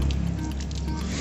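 Water sprays hard from the nozzle of a CNP CDLF 2-18 single-phase 3 HP steam washer machine, producing a loud, steady hiss close by with a pump-like rumble underneath.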